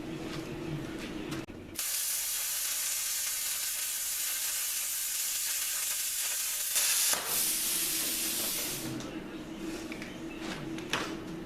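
A cheap plasma cutter cuts metal freehand with a loud, steady hiss lasting several seconds, stopping and restarting, with brief talk before and after.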